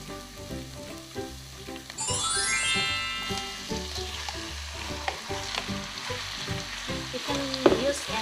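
Chicken pieces frying with onion in a pan for empanada filling: a continuous loud sizzle with stirring and scraping throughout, close up, some light metallic clinks, no talking.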